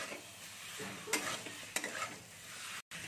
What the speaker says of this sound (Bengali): এর মধ্যে দিয়ে মশলার সাথে ভালো করে আমি কষে নেবো